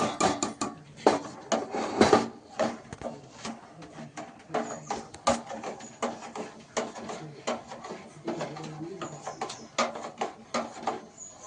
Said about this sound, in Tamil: இப்போது நாம் அடுப்பை ஆஃப் பண்ணிவிட்டு இதை கீழே இறக்க வேண்டும்.